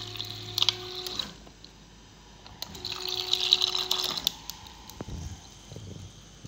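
Water dispensing from the door of an LG Instaview Door-in-Door refrigerator (GC-X257CQES), with mechanical clicks and a creak, then a steady trickle of liquid into a container that stops and starts again, fairly quiet and close, with no talking.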